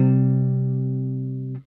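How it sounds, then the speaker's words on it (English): Two sustained tones a perfect fifth apart, the kind used for guitar power chords, ring together steadily and clearly, slowly fading before a soft click at the end. "the last interval we'll be looking at today is the perfect fifth"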